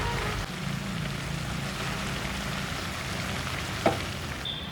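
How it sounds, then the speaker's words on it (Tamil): Kongu-style intestine and blood fry cooking in a pan, a steady dense sizzle of frying that holds evenly throughout, close and fairly loud, with one brief clink near the end and no voices. "ரத்தத்தை ஊற்றி நல்லா இந்தளவு கெட்டியாக வர வரை நம்ம ஃப்ரை பண்ணி எடுத்துக்கணுங்க"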